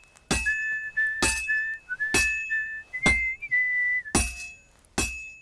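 A character whistles a steady, wavering tune in the Kingdom Come: Deliverance II video game, punctuated at regular intervals by loud metallic clinks like hammer strikes on a forge.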